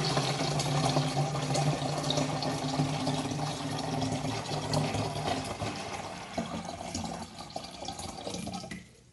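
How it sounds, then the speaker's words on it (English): Water steadily filling a filter jug, a continuous soft splashing and trickling that fades away at the end, heard alone without any talk. "So I'm gonna let the rest of the water fill up, you know, filter in the jug thing"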